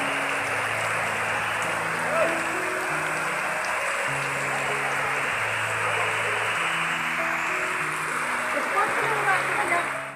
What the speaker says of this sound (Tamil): மழை அதிகமாக வருது, ரொம்ப அதிகமாகிடுச்சு